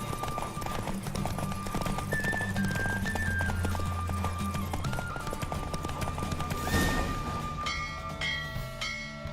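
Horse galloping during a race in the video game The Witcher 3, a steady clip-clop of hooves under continuous game music, with a bright chime-like flourish near the end.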